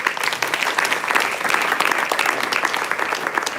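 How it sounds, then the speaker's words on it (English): Sustained applause from an audience honouring graduates and teachers at a school graduation ceremony, dense steady clapping from many hands that fills the space evenly, with no speech over it. "Another good round of applause for all of the graduates and the wonderful teachers"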